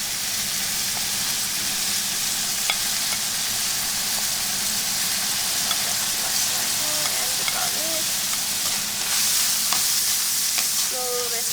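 Chopped red onion, green pepper and garlic frying with beef in a pan, a steady close hiss of sizzling with faint stirring clicks and scrapes throughout.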